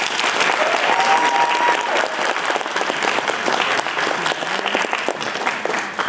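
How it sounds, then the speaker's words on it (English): Applause from a gaming convention panel audience at PAX Australia 2024, loud and sustained, a dense wash of clapping hands that stays steady for several seconds with a little crowd noise mixed in. "Can I get a round of applause for Rick?"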